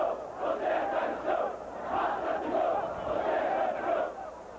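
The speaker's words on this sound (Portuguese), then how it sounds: "Os protestos começaram nas arquibancadas." Corinthians fans protesting in the stadium stands during a Paulistão football match against Palmeiras, a large distant crowd chanting and shouting in rising and falling waves, steady and massed.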